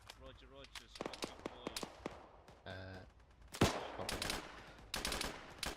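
Rifle shots ring out in a military shooter video game, several sharp cracks spread across the moment, with voices talking between and over the shots.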